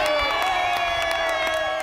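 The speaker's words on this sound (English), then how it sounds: "The cheers, chants, let's go, Bees!" Baseball fans cheer, whoop and chant in a loud, dense crowd roar at Smith's Ballpark during a Salt Lake Bees doubleheader, with the noise sustained throughout and a few rhythmic claps.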